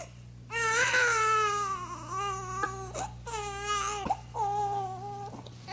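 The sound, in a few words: imitation of a baby girl crying in a Bhagavat Katha story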